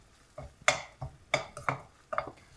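Gram flour being lightly fried and stirred in oil in a pan for chole masala, with a few sharp scraping and tapping strokes of a spoon against the pan over a faint background, no talk.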